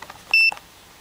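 A multimeter set to continuity gives one short, clear electronic beep, clean and close, in a quiet room while a dead battery is tested.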